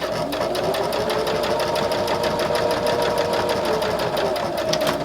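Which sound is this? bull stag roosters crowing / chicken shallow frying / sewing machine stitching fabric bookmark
sewing machine stitching fabric bookmark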